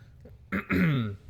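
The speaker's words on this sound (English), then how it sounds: "we're gonna cough like crazy because talking straight really takes your throat away" A man gives a short cough followed by a rough, drawn-out throat clearing, close and fairly loud, in a quiet room.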